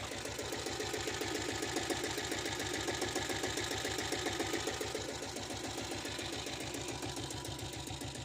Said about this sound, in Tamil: இன்ஜின் ரன்னிங் நாய்ஸ் மட்டும் தான் ஃப்ரெண்ட்ஸ் இருக்கும்